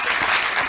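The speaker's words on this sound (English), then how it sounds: "I believe we can give the Minister of Information another round of applause" Audience applause at a law alumni association launch and public lecture, a dense steady burst of clapping filling the hall, brief and loud with no voices on top.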